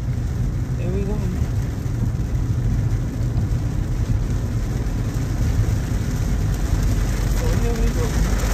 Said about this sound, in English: The rain coming down, y'all.